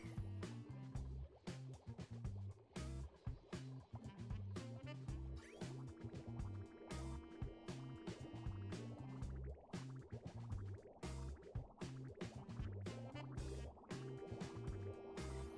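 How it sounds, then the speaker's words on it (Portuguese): In the video game Oxygen Not Included, water flows into a pipe system as faint gurgles and drips repeat steadily among soft, tonal game sounds. "Começou a entrar água já no sistema."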